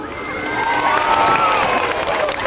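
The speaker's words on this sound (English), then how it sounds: "Let's give him a big cheer" A crowd of spectators, children's voices among them, cheers and shouts continuously at a sea lion show in the UK as Clyde the sea lion performs, a loud, steady roar of voices.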